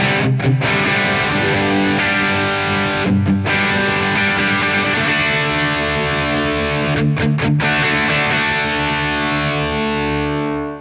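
A Taurus SH7 Apogee amp on its overdriven high gain channel, knobs at noon, pours out a loud, dense distorted guitar with sustained chords and brief stops, played alone without talking.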